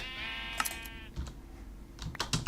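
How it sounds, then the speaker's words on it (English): In the Minecraft video game, a dispenser fires shears at a sheep to shear it, giving a close bleat with a harmonic tone followed by several sharp, short clicking snips and pops. "if you've got shears in a dispenser and you fire it at a sheep"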